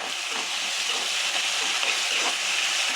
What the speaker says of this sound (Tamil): இஞ்சி பூண்டு பேஸ்ட்டு போட்டு நல்லா வதக்கணும், அந்த பச்சை வாசனை போகிற வரைக்கும்.